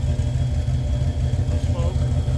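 A Fox Body Mustang engine idles just after starting, a close, steady low rumble with a pulsing throb and no other sounds over it.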